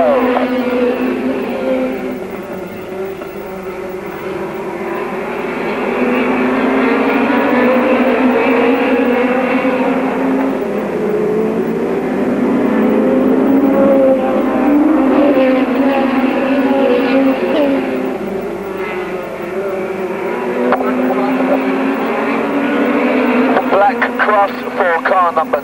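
Hot rod race cars race through a semi-final heat, engines droning and rising and falling in pitch as they pass, with an announcer commentating loudly over the continuous roar.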